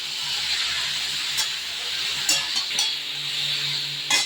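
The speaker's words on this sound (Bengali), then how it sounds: "এবার এটা একটু ভেজে নেবো ভালো করে সবজিগুলো ভেজে নেব" Vegetables for shukto hiss and sizzle steadily in a hot pan, with a few sharp clinks of a utensil against the pan.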